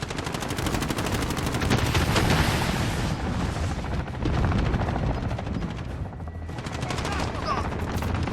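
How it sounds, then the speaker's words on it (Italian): An allied assault helicopter arrives in Call of Duty: Modern Warfare, its rotor thumping loudly amid bursts of machine-gun fire and distant explosions, filling the battlefield with continuous noise. "Elicottero d'assalto alleato in arrivo."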